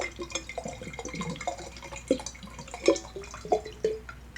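Red wine trickles through an upside-down aerator gadget into a glass, producing a string of small, close, irregular drips and bright liquid plinks over a faint steady background hum.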